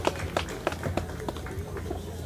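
Audience applause at an outdoor Tónap lakeside community day in 2024: a burst of clapping from a crowd, fairly near and steady for a couple of seconds, with scattered sharp individual claps and faint voices underneath.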